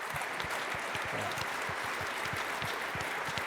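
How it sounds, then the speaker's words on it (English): Audience at a men's night panel event applauds the host, a dense steady wash of clapping filling the room at even loudness, with no voices. "can we give a round of applause for Matt?"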